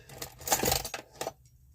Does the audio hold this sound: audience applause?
no